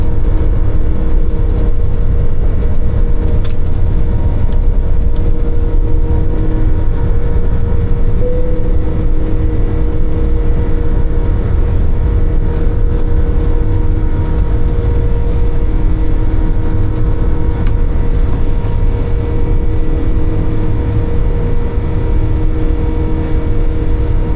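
A British Airways Airbus A380 taxis and departs from London for San Francisco, its engines a loud, steady, low roar that holds without a break throughout, with no voices over it.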